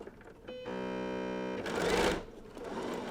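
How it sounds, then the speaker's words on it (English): A sewing machine stitches quilt binding across pinned fabric in a single close, steady mechanical hum lasting about a second, followed by a brief rustle of handled cloth. "pretend I'm not stitching over the pins. And you're going to stitch right off the end"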